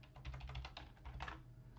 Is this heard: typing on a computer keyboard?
yes